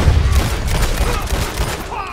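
Gunfire rings out in Red Dead Redemption 2 with a chaos mod running, a loud burst of rapid shots and booms over a couple of seconds while a player talks over it.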